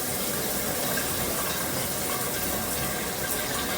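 Veken 11.8-inch rain shower head spraying with both modes on at once, a steady broadband hiss of falling water, continuous and fairly loud with no talk.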